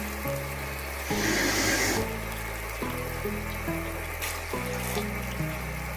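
Water pours steadily into a pot holding about one kilogram of raw mutton for matka gosht, a continuous close rushing splash with a few brief pauses and shifts in flow.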